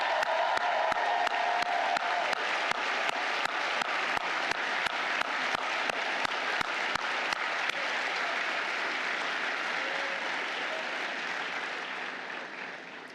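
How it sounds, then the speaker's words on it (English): Large crowd applauding family and friends at a school of foreign service commencement, sustained steady clapping with some cheers and whoops that gradually fades toward the end. "can we please have a huge round of applause to all the family and friends who helped make today possible"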